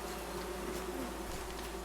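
Bees buzz in the video game Among Trees, a continuous droning hum of a swarm close by, steady and unbroken, with no talking.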